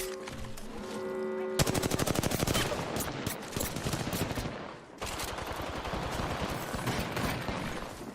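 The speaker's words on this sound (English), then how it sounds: "Listen up, I'm getting shot at." Rapid bursts of automatic gunfire from a battle royale shooter video game, loud and close, with dense rattling volleys continuing almost without pause and a brief break near the end.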